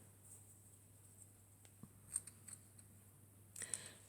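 Scissors snip through a piece of gauze for a handmade New Year card, giving a few faint, close clicks and short cuts that cluster near the end in an otherwise quiet room.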